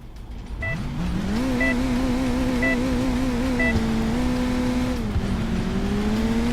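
A remote-controlled car in the racing game Crash Time II drives along with a steady, buzzing engine note that revs up and shifts pitch, loud and continuous throughout with no voices.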